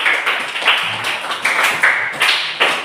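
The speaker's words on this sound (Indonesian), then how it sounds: "Tepuk tangan bersamanya." Students in an elementary school classroom clap together after a teacher's cue, a steady patter of hand claps carrying through the whole stretch with brief louder bursts.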